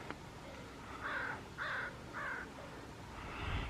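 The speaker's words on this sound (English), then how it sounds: "There are tons of birds up over here." Crows cawing by the water in Juneau, Alaska: three loud harsh caws in a row, then a fainter call, over quiet outdoor ambience.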